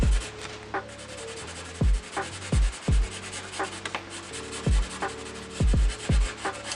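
Pencil shading on paper while colouring a drawing of a vase, a steady soft scratchy rubbing broken by repeated short, louder strokes at an irregular rhythm, close and alone with no talk.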